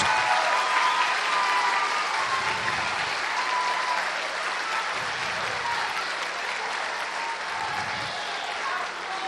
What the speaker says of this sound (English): another round of applause for our 3rd, 4th, and 5th graders